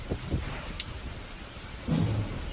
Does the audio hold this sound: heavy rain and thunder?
yes